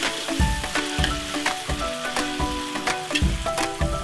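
Ground spice paste sautés in a pan, a busy frying sizzle mixed with repeated scraping and clanking of a spatula in an irregular rhythm, close and fairly loud.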